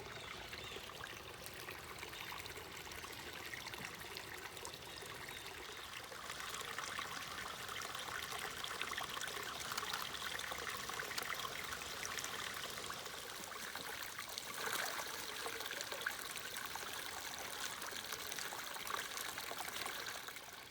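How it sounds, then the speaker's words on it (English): A creek flows steadily in a wooded hunting property, a continuous trickling and babbling stream sound at close range, with no talking throughout. "there's a creek right over my shoulder that I've been showing you"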